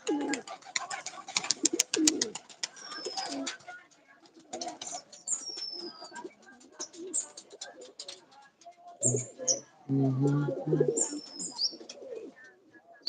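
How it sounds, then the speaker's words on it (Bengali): Pigeons cooing nearby in soft, low, throaty bursts that come and go over several seconds, mixed with short chirps and brief rustling between the calls. "পায়রা উড়া ভাই"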